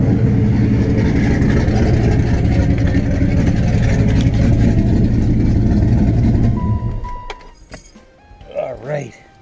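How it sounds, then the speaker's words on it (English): A car engine runs loud and steady at idle with a low rumble, then cuts off abruptly; after it stops, a faint ding and some light handling noises follow in the quiet. "let me shut the car off"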